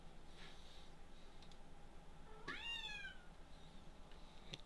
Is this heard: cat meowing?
yes